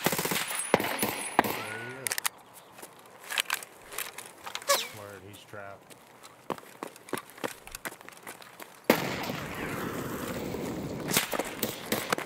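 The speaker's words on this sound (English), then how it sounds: "Getting shot." Gunfire in the shooter game Escape From Tarkov, with scattered sharp shots and bursts under ongoing voice chat, then a denser, steadier crackle of fire near the end.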